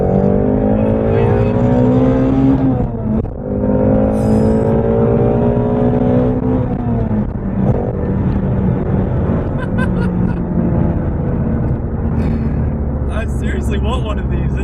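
A 2017 Ford Mustang Shelby GT350 accelerates hard from a 40 mph roll, its engine loud and close and revving up through the gears with short dips at the shifts.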